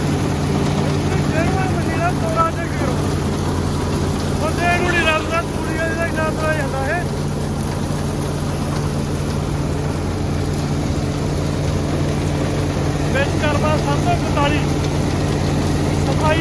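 A Sonalika straw-making machine runs steadily with a constant low mechanical drone and hum, while someone talks over it at close range for most of the span.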